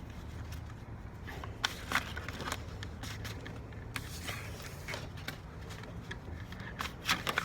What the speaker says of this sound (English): I'm trying to shuffle first. Like, all of these cards just flew right out.